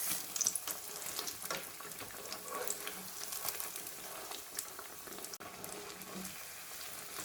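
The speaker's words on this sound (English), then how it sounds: "Just fry them until golden brown on both sides." Aloo tikki potato patties deep frying in hot oil, a steady close sizzle with soft crackling bubbles running throughout, no talking.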